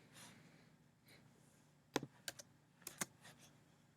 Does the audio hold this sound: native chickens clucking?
no